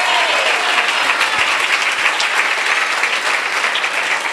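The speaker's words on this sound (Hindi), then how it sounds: "बजाइए ना तालियां, तालियां बजाने में आपको क्या हो?" A church congregation claps during a sermon, giving dense, loud and sustained applause that runs for several seconds with faint voices underneath.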